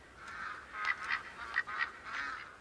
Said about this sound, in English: I got some ducks flying overhead